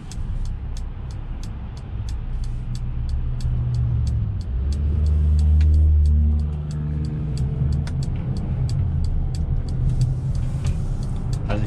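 Engine of a 2021 Mercedes GLA entry-level SUV with a 258 torque figure, heard from inside during an evening drive: a steady low hum that swells into a louder rumbling acceleration midway, then settles back as the drive continues.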